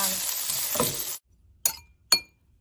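Fried rice sizzles loudly in a hot pan for about a second, then cuts off, followed by two sharp metallic clinks of utensils against the pan.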